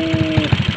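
A Yamaha Mio motorcycle with a 28mm carburetor idles close by, its exhaust giving a steady low, pulsing putter with evenly spaced thumps and no talk over it.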